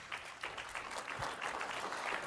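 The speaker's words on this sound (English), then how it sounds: "you can give him a round of applause easily" An audience applauding at a swimming coaching tribute talk: moderate, somewhat sparse clapping heard at a distance, building slightly, ending with a loud close thump.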